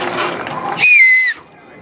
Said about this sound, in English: Whistle like you mean it, Timmy.